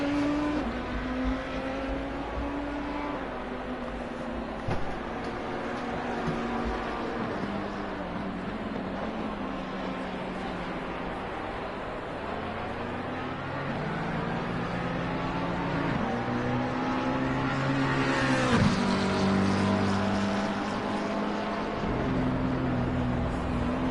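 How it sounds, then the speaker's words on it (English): GT3 race cars, a Porsche and an Audi, circling the Kyalami circuit in a sim racing game, with steady engine drone and shifting pitch as cars pass, continuous and fairly loud throughout with no talk. "And there goes the Audi of Robin, but he is a lap down on the Porsche driver."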